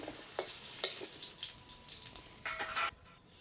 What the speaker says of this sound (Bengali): ওই কড়াইয়ে দিয়ে দিলাম সামান্য সরষা তেল আর ওখানে দিয়ে দিলাম কুচানো পেঁয়াজ